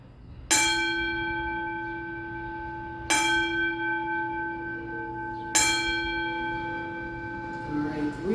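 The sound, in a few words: tune of a signal bell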